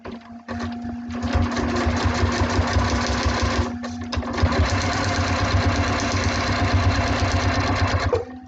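A sewing machine stitches steadily through a seam allowance on a small foundation-paper-pieced block, running close and loud in one continuous whir with a brief pause near the start.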